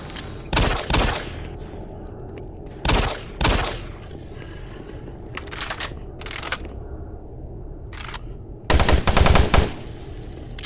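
Gunfire from the video game Doom 3, heard as several separate loud bursts of shots with quieter ambient game noise in the gaps and a final heavier burst near the end.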